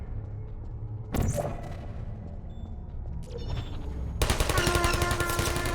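Turret gunfire in Portal starts as a sharp burst and then becomes a dense, continuous rapid rattle near the end, loud and close with no talking.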